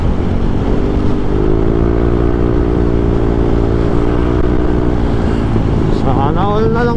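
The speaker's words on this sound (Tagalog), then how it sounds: "Halo-halo yung motor oh." A group of mixed motorcycles rides past on a road between Sorsogon and Manila, their engines a steady, loud droning hum that rises into higher-pitched revving near the end.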